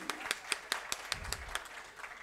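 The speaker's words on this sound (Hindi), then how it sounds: "तालियां भाई ऐसे नहीं" A small audience at a live Hindi film song concert gives about ten sparse, faint hand claps in an uneven rhythm, with no voices over them.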